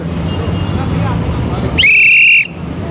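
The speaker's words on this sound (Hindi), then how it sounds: "अब आप सोच रहे होंगे कि हम सीटी क्यों मार रहे हैं।" A police whistle blown by the roadside gives one loud, steady, shrill blast lasting about half a second, standing well above continuous traffic rumble and faint background voices.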